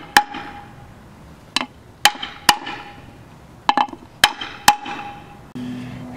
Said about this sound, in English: I'm gonna grab this piece of wood and just tap.